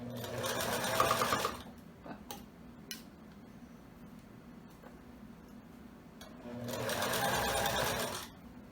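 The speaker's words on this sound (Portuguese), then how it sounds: "vai começar aqui com a costura reta, dando o retrocesso" A sewing machine runs a straight seam with backstitching on wide elastic, in two steady whirring bursts, one at the start and one near the end, separated by a quiet pause with small handling clicks.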